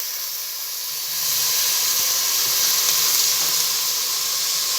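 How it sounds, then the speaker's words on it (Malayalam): Rice poured into hot oil for mutton biryani hisses and sizzles loudly, the steady steamy noise swelling about a second in and holding constant with no voices. "നമുക്ക് എണ്ണയിലേക്ക് അരി ഇട്ട് കൊടുക്കാം."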